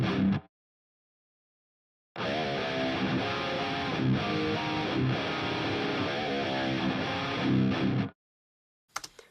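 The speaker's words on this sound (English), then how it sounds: "So here's what it sounds like with the noise gate on." A distorted metal electric guitar recorded with a noise gate on plays a dense, loud riff for about six seconds, with total silence before and after where the gate cuts off the hum and hiss.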